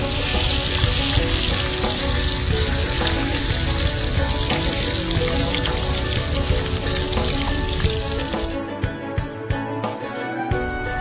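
Crabs fry in a pan at an outdoor cookout with a loud, dense, continuous sizzle and crackle that thins into scattered pops near the end.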